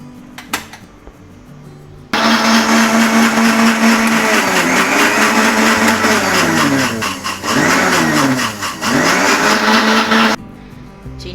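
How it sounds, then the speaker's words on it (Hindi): A kitchen blender whirs loudly and steadily for about eight seconds, blending sugar syrup for mango juice, with pitch dips as the load shifts before it cuts off abruptly. "ब्लेंडर में हमने इसका शीरा बनाना है।"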